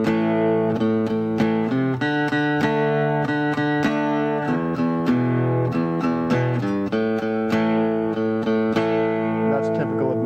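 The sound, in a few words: guitar progression of open position power chords and open strings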